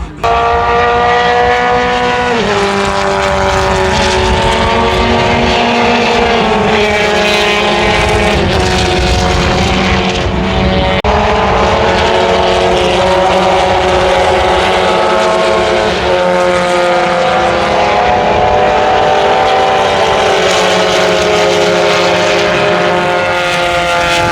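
Vintage open-wheel race cars lap the Canadian Tire Motorsport Park circuit, a loud continuous engine roar with shifting pitch as cars pass close by, layered high-revving tones sweeping up and down with no talk.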